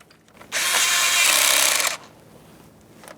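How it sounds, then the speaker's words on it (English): A power tool whirs for about one and a half seconds, loud and close, tightening an ignition coil mounting bolt on a 2012-2018 Nissan Altima 2.5L, with quiet moments before and after. "Start in that mounting bolt and snug it up."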